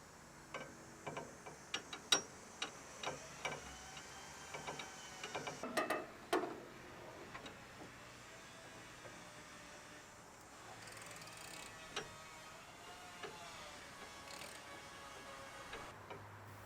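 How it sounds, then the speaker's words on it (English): Inner tie rod tool tightening an inner tie rod on a 2019 GMC Sierra Denali, with a run of close, crisp ratcheting clicks and metallic ticks in the first several seconds, then quieter mechanical handling. "So now we can tighten it up with our inner tie rod tool."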